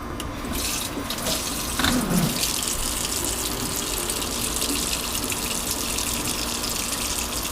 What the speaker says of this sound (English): I'm going to put a little bit of water to cover the bottom.